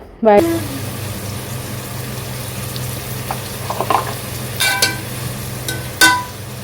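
Sliced onions are sautéed in a pan for chicken curry, giving a steady low sizzle with scattered clinks of a spoon against metal and a sharp clatter at the start.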